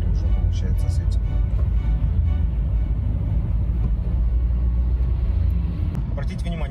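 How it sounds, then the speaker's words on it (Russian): A Lexus RX 400h hybrid SUV pulls away under acceleration after running on battery power, a steady low engine rumble filling the cabin throughout while someone talks over it. "Вот сейчас надавил на газульку, и мы поехали уже"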